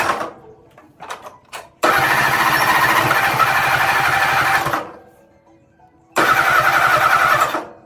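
Ford 8N tractor engine cold-starting after two years idle: brief sputters and cranking, then a loud steady run for about three seconds that cuts out, followed by another loud burst of running near the end.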